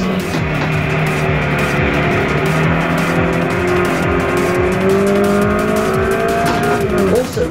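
V6 engine in a hatchback revving hard nearby, with a steady loud engine note rising and falling in pitch and a brief tire noise near the end, with no talking.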